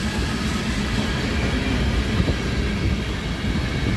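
A CP mixed manifest freight train rolls steadily past Dorval station in Montreal, a continuous loud rumble of railcars with faint clickety-clack of wheels, close by and unbroken throughout, with no voices.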